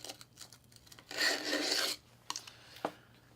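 A knife blade drawn through a cheap eBay knife sharpener gives one loud, coarse rasping stroke of about a second, followed by a couple of short scrapes and clicks.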